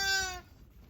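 A newborn lamb, one of a set of triplets, gives a single short, thin bleat close by, which quickly fades.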